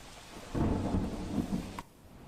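Rain begins over a waterlogged city road in Vejalpur, a steady broadband wash that swells loudly for about a second, then drops back to a softer hiss near the end.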